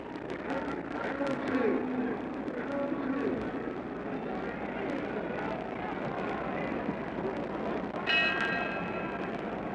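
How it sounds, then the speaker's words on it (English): Boxing ring bell signalling round 2 at the 1967 Muhammad Ali versus Ernie Terrell fight, a brief distant ring near the end, heard over a constant roaring arena crowd. "We're getting ready for the bell for round 2."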